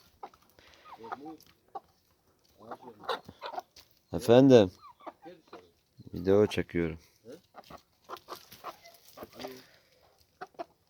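Hens cluck and squawk in short bursts inside a stone-walled coop at a vineyard house, a couple of loud calls standing out, while a person speaks briefly nearby.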